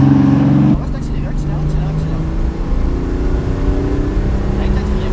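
Car accelerating during a driving lesson on a track, with steady engine hum building in pitch inside the cabin; an instructor speaks over the engine throughout.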